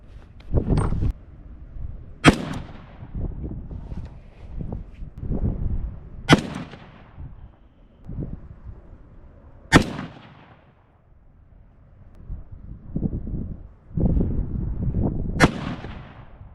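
Four sharp, loud rifle shots from a Ruger SFAR fitted with a Timney trigger, fired outdoors as a three-round group plus one more, spaced a few seconds apart with echoing decay and handling noise between them.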